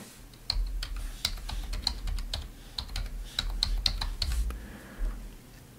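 Password being typed on a computer keyboard, a steady run of close, crisp key clicks with short pauses between bursts, no voices.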